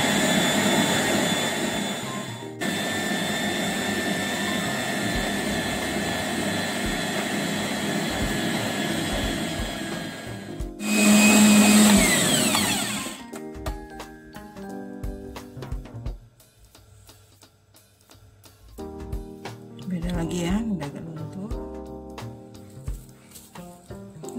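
Stand mixer kneading pizza dough with a loud continuous motor whine that swells midway, then cuts to quieter, intermittent whirring.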